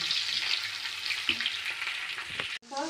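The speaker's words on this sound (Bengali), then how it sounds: "পেঁয়াজটা আমার ভাজা হয়ে গেছে। আমি বাদামি রং করে পেঁয়াজটাকে ভেজেছি।" Onions fry until brown in hot oil in a pan, a steady, constant crackling hiss with a few soft stirring scrapes, briefly cutting off near the end.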